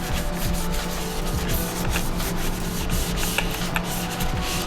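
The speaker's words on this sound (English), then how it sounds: "Just kind of get on there and wipe those bolt heads down, wipe the chassis down." Continuous close rubbing as a cloth wipes down the bolt heads and chassis of a Hobao RC car, a steady textured scrubbing with no pauses or talk.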